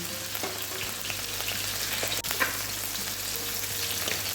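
Jute leaves (pat shak) fry slowly in a pan over a low flame, giving a steady, soft, continuous sizzle with a faint scrape or two and no talk.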